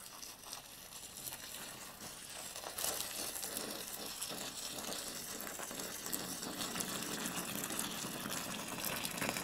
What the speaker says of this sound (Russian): сейчас мы добавим воды